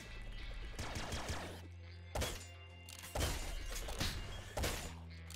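Weapon fire from a splinter spear launcher in the Nuclear Throne video game, several sharp shattering bursts at irregular intervals over a dense, steady game soundtrack.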